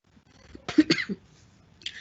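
A couple of short, sharp coughs close by, then brief quiet and a faint breathy sound at the end.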